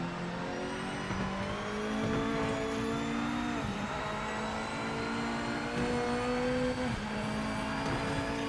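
A race car engine in the PC racing game PMR drones steadily at moderate level, its pitch climbing in repeated gear-by-gear sweeps with brief drops at each shift, with no talk over it.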